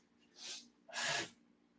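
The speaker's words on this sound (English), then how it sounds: "I just got to blow my nose." A person with a cold blows their nose twice: a short breathy hiss followed by a longer, louder, forceful honk, close and with no talk.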